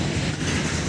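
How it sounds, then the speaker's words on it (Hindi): A freight train rumbles steadily past a railway station platform in the evening, its dense, loud roar of wheels and wagons filling the scene with no pause. "एक मालगाड़ी इधर से जा रही है"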